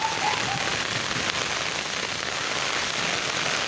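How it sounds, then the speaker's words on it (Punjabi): Heavy rain pours down on a flooded road in Chari village, Punjab: a loud, dense, unbroken hiss of drops hitting water and surfaces, constant from start to finish. "ਬਈ ਮੀਂਹ ਬਹੁਤ ਪੈ ਰਿਹਾ ਜਿੰਨਾ ਕਰੋ ਬੇਹੱਦ ਮੀਂਹ ਪੈ ਰਿਹਾ"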